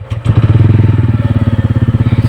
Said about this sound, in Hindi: इसके जो इंजन की आवाज़ है तो आपको सुना देता हूँ